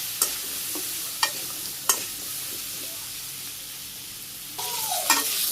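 Papaya with salt, turmeric and chili powder is fried and stirred in a pan. A steady sizzle carries a few sharp, spaced scraping strokes, and a louder burst of frying and stirring comes near the end.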